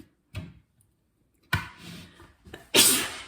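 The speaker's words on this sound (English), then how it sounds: "sorry, I just sneezed" A sharp, loud sneeze bursts out near the end after a couple of softer breathy sounds and small bumps, close to the mic.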